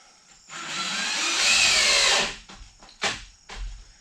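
A cordless power drill with a dying battery whirs loudly for about two seconds, then gives a few short, stuttering bursts as it winds down.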